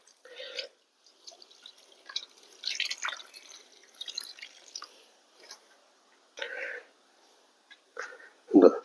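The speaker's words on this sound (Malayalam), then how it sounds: "ഇതിൽ നമുക്ക് വെള്ളം ഒഴിച്ച് നോക്കാം വെള്ളം നമ്മൾ ഒഴിക്കുക" Water is poured onto the soil of a potted plant and drains through: intermittent splashy trickles and drips in short bursts with quiet gaps, ending in a louder gush.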